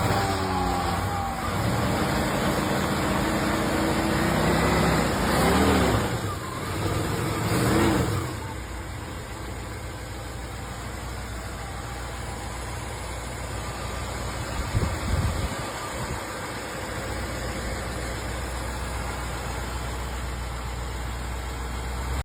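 A 1963 Ford Thunderbird engine runs quietly at a steady idle, with a couple of brief swells early on before settling into an even, low hum.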